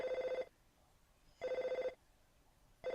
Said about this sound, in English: Dude, your phone's ringing.